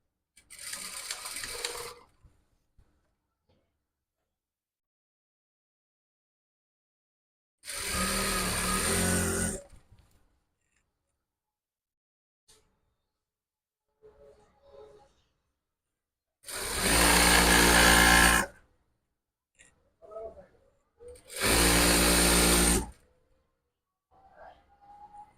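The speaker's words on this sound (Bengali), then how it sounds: "এখান থেকে সেলাই দেব।" A sewing machine stitches a hijab in four separate loud bursts, each a few seconds long, with quiet gaps and faint handling noises between them.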